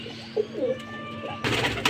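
Parwazi flying pigeons give soft low coos close by, a few short murmuring calls over a faint steady hum, ending with a brief burst of rustling or flapping noise.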